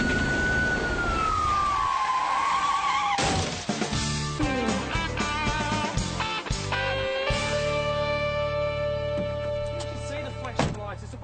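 A wailing siren sweeps in pitch near the start, then blends into a busy, loud mix of music and traffic sounds.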